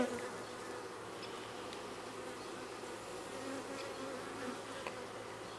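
A steady, even drone of honeybees fills the air around an open hive on a hot, sticky day at a farm apiary, the buzzing faint yet continuous with no talk over it.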